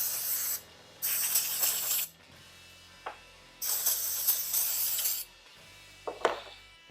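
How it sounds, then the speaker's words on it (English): Brake cleaner sprayed from an aerosol can onto oil-soaked parts of a 1947 Ford: three loud, close hissing bursts, each lasting about a second, separated by short pauses with faint handling noises. "I'm going to clean them out with brake clean, because they are still soaked in penetrating oil right now."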